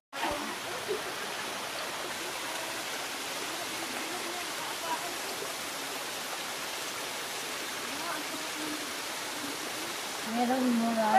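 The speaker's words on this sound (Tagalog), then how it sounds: "May ilog na." Flowing river water makes a steady, broadband rush that holds even throughout, with a faint voice briefly rising near the end.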